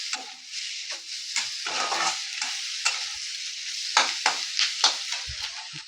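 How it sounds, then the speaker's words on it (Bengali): Spices frying in a pan before chicken mince goes in, for chicken puff filling; a bright, close sizzle with repeated scraping stirs and spatula knocks, loud and continuous with no speech. "এবার একটু ফ্রাই হলে তারপরে আমি কিমাটা দিয়ে দেব।"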